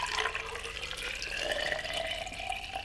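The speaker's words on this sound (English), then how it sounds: "fill it up with some water" Water pours steadily into a juice container holding broccoli and a little lemon, a continuous close splashing fill with a rising trickle, no talking.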